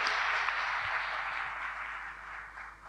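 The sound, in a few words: audience clapping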